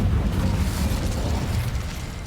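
Incendio fire spell cast in a Hogwarts video game, a dense low roaring whoosh of flame burst that holds steady and loud for a couple of seconds before easing slightly.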